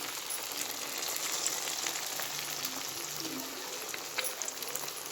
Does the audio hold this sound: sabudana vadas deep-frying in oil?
yes